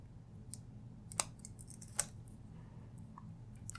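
Wire cutters snip wire for a wire-wrapped gemstone ring, with two sharp, faint clicks and a few tiny handling ticks in a quiet room.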